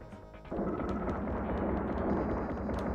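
Heavy, booming blast from a big gun in the Demolition Man SNES video game, a sudden dense roar that sets in after a short pause and stays loud and rumbling to the end.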